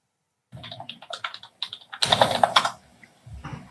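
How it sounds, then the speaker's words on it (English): A computer keyboard clatters in quick bursts of keystrokes, close and crisp, with a denser run of typing in the middle before it trails off into a few last taps. No voices. "Typing."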